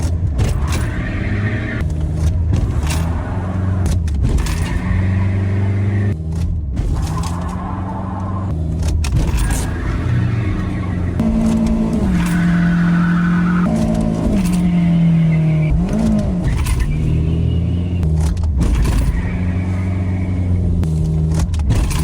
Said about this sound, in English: But we're talking over 20 to 25 neutral drops.